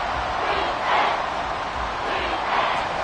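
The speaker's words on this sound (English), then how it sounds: "The crowd getting into it as we come up on a big 3rd down." Football stadium crowd roaring steadily as a big third down approaches, a dense sustained cheer with swells rising and falling throughout.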